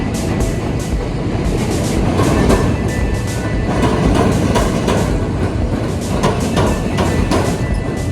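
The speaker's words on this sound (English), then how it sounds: "there was our L train going across the bridge here" A Chicago L train rumbles across a bridge over the river nearby, with steady rolling roar and rhythmic clickety-clack of wheels over rail joints throughout.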